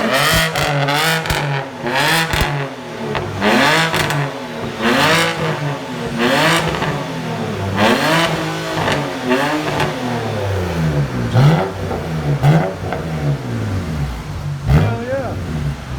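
A 2007 BMW 328i with a 3.0L engine and straight-pipe exhaust with dual blue-flame tips, revving repeatedly in loud rising and falling bursts, with a raspy, throaty tone and brief pauses between pulls.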